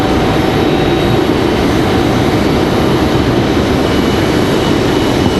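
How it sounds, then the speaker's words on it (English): Frontier Airbus A321neo jet in Axolotl livery arriving at Raleigh-Durham airport from Buffalo, a loud continuous broadband engine roar close by that holds steady throughout, no voices. "a Frontier 2979 Axel, the Axolotl livery coming in here from Buffalo, New York, the A321neo"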